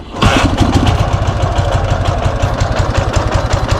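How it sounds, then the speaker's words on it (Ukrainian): A Dnepr MT11 motorcycle engine idles on only one cylinder after carburettor adjustment, a loud, steady uneven chugging with rapid pulsing firing beats running continuously from start to end. "Бачите, мотоцикл працює на одному циліндрі"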